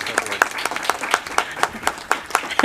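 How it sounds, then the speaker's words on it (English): A small audience at a board of education meeting claps for honored students, a sparse, evenly spaced round of hand claps close by for a few seconds. "We can clap."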